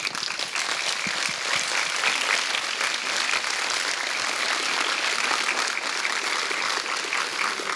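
Guests at a youth health awards ceremony give the standing honorees a long round of applause, dense, steady clapping from a large room that continues without pause and without speech.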